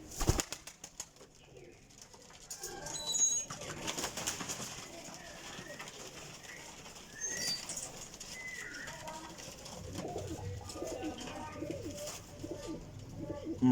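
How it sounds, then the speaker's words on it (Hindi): Teddy Golden flying pigeons coo in a pigeon loft, soft intermittent cooing with occasional wing flaps, mid-distance and fairly quiet, with someone talking at times. "ये है देखो जी टैडी गोल्डन कबूतर है"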